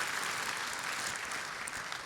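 A church congregation claps in steady, continuous applause that sounds moderately distant and keeps an even level throughout.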